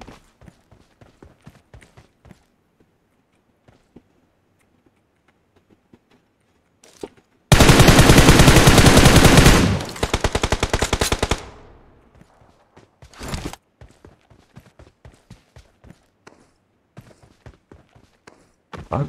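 Machine gun fire in the mobile battle royale game BGMI, with sparse single shots and clicks followed by a loud, sustained automatic burst lasting a few seconds, then more scattered shots.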